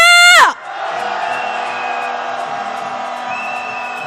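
Rally crowd at a candlelight march for impeachment breaks into a loud collective roar after a brief amplified shout, then a sustained, slightly distant wall of cheering and yelling continues.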